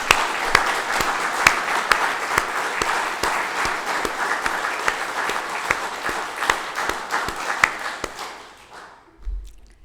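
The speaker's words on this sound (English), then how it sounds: "Please, a round of applause for everyone" Sustained audience applause at an Order of Prince Edward Island investiture ceremony, dense steady clapping from a large crowd that tapers off toward the end.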